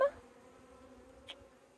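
A faint, steady honeybee buzz hums low throughout, with a brief louder rustle near the end; no talking.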